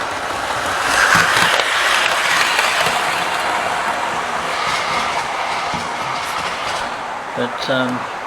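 A model train rumbles continuously along its layout track with a steady whir and light clicking, a voice talking over it near the end.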